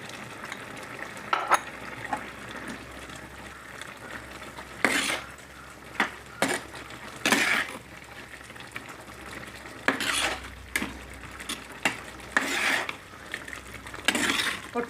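Roasted gram powder being stirred into a homemade Kerala-style mango curry, with a spoon scraping and clinking against the pot in repeated bursts over a quiet simmer, no voices.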